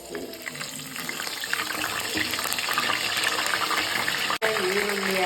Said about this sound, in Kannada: ಕಡಾಯಿಗೆ ಎಣ್ಣೆ ಹಾಕಿ ಅದ್ರಲ್ಲಿ ಸ್ವಲ್ಪ ಸಾಸಿವೆ ಹಾಕಿ